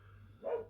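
A single short dog bark sounds close but faint over a quiet background.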